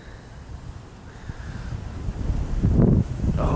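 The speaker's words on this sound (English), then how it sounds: "Oh, the wind's picking up." Wind blows outdoors across a snowy wetland, a steady low rumble that builds gradually and gusts louder toward the end, buffeting the microphone.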